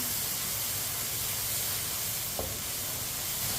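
Tomatoes cooking in a pan and being stirred with a spoon, a steady close sizzle and hiss with one brief scrape of the spoon, no talking.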